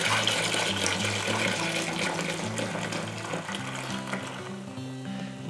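Water pours steadily into a homebrew brewing vessel for Munich pale ale, a continuous close splashing gush lasting throughout, with background music playing underneath.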